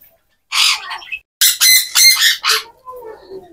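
Pet cockatiels on a farm give several loud, harsh squawks in quick bursts, close by, with short pauses between calls and a softer trailing chirp at the end.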